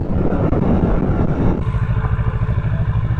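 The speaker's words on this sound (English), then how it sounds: "Bengaluru, Mangaluru, wind blast." Steady, loud wind roar buffeting the microphone while riding a Kawasaki Z650 motorcycle on the road, with a low engine drone beneath and a shift in tone partway through.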